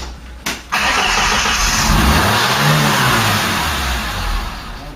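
A Ford Cortina Mk3 engine on a traction test starts with a brief crank, then roars loudly close by, rising in a smooth rev and falling back to a steady idle.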